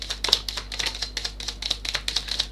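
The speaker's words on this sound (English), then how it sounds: "I want another shuffle." Tarot cards being shuffled by hand: a quick run of crisp, papery clicks and flutters in an uneven rhythm, close to the mic and alone.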